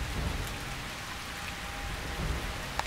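Steady rain pattering on chiseled granite and stone-carved temples in the video game Calvino Noir, a continuous soft hiss with a faint click near the end.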